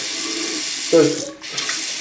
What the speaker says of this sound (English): I'm running hot water here just to flush that out a little bit there